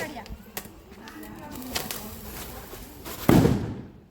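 Firecrackers going off outdoors, a few scattered small pops and one loud close burst near the end, with people talking throughout.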